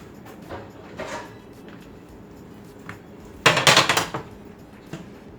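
A pan set down on a stove for frying eggplant slices, heard as one short metallic clatter and scrape standing out over a faint room background, with a few quieter knocks before it.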